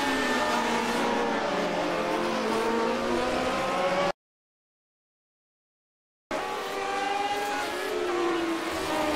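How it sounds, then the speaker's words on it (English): Lotus 79 classic race cars in the iRacing simulator at Zandvoort, engines roaring loudly as they overtake, with a buzzing high-revving drone interrupted by a two-second gap of silence before the racing noise resumes. "Lap 8 sees Matthews catch the slipstream of Schmidt's Zach Speed, culminating in an overtake into the first corner"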